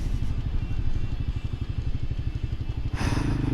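A motorcycle roars loudly nearby outside, its rapid, pulsing engine note steady for about three seconds before a brief burst of broadband noise near the end.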